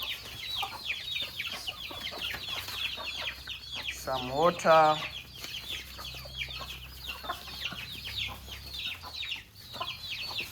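Chickens cluck steadily in their new budget coop on a farm, a busy chorus of close, overlapping clucks running throughout, with a brief louder squawk midway and a person speaking briefly.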